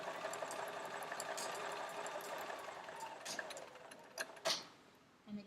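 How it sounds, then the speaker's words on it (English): A home sewing machine runs steadily while stitching quilt pieces along a drawn line for a pieced star centre, a soft mechanical whir with a few light clicks and rattles near the end. "So just sew along your drawn line."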